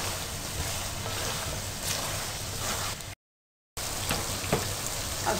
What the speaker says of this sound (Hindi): चनों को अब आपने अच्छी तरह से भून लेना है